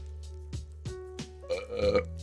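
A loud human burp during a livestream, a drawn-out croaking belch that rumbles briefly after a few short clicks and mouth noises, close to the microphone.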